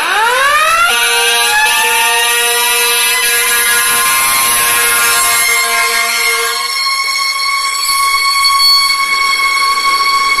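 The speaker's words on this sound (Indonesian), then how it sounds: "di sini ada truk pemadam kebakaran" A toy fire truck's electronic siren wails loudly and steadily, rising in pitch at the start and then holding a tone with layered harmonics for about ten seconds, heard close and alone with no talking.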